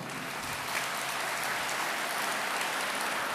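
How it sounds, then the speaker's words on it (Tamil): Children in an audience clap continuously, a dense, even patter of many hands sustained throughout without a pause, with no voices over it. "உங்களை விட அந்த பிள்ளைங்க அதிகமாக கைதட்டுது பாருங்க"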